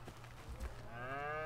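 A cow in The Sims 3 game, part of a farm set with milkshake-making, lets out a single drawn-out moo that rises in pitch and swells toward the end over low background hum.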